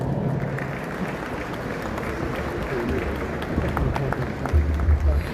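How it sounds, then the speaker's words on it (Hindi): A crowd applauds at a government inauguration ceremony for a defence corridor in Kanpur, producing sustained, dense clapping from a large audience with some louder thumps near the end. "जोरदार तालियां इसी बात पर।"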